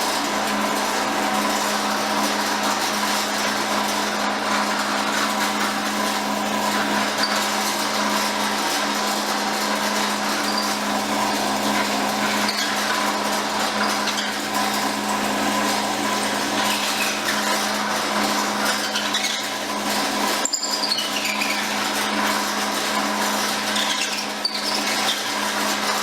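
A steady mechanical whir of a drill press spinning a wooden pen blank, continuous and fairly loud, with a brief sharper scrape near the end.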